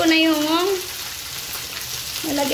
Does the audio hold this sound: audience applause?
no